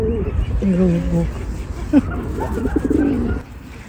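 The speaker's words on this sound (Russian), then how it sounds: "Голубь за голубком." Pigeons coo nearby on an outdoor walk, several soft, rolling coos in short bursts, with someone talking over and between them.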